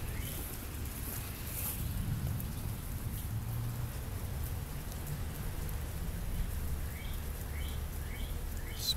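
Hail storm in North Vernon, Indiana, in July, a steady dense patter of ice and rain striking surfaces nearby, continuous and fairly loud throughout with no talking.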